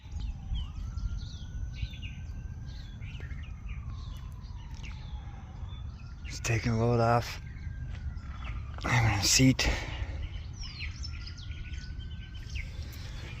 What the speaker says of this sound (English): the birds chirping before I go back down in the madness